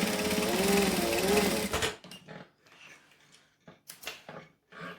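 A sewing machine stitches extra reinforcing lines on a unisex sling bag, running in one loud, steady burst for about two seconds before dropping to a few faint, scattered handling sounds.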